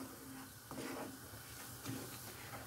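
Flour is stirred into melted butter and oil in a pan on the stove, giving soft scraping and shuffling stirs over a low sizzling hiss at a moderate, steady level, with no talking.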